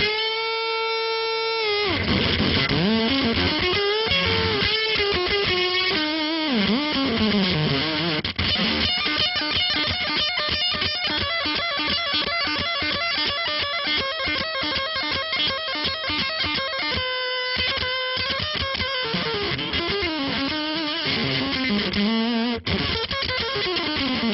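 Guitar played through a fuzz pedal with its tone control turned up, giving a loud, saturated, buzzy distorted tone. Sustained chords and notes ring continuously for about twenty seconds, with a couple of brief gaps between phrases.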